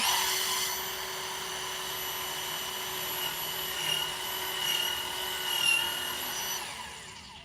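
A Kreg pocket hole machine drills a pocket hole, giving a steady high-pitched motor whine with a sustained whistling tone for several seconds before spinning down, under a faint background hum.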